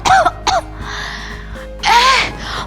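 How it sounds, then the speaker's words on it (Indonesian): A child or adult in a church children's service gives two short, sharp coughs close by, then after a pause a longer rasping cough, sounding near and fairly loud with no talk over it. "Lagi batuk"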